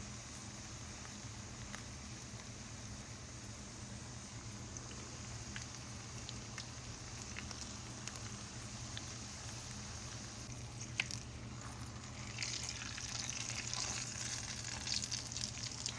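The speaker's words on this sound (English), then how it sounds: "I'm gonna put these seam side down and fry these on each side just a couple of minutes to let them get browned up" Chicken jalapeño popper flautas fry in hot oil with a soft, even sizzle and faint popping that grows slightly busier toward the end, with no speech over it.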